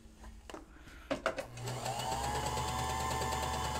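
A needle felting machine punches rayon fibers, starting with a few clicks and knocks, then revving into a steady, rapid mechanical buzz and hum that runs continuously.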